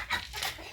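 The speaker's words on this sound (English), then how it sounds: "Our chicken." A chicken clucks briefly outdoors at a home, a short breathy call over a low background rumble.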